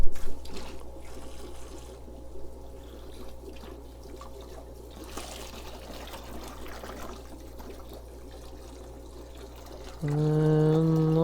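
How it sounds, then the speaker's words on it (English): Water poured into a bucket for rinsing aquarium filter sponges, a soft steady trickle against a low hum, ending with a louder gush as the flow picks up. "So as I put water in this bucket,"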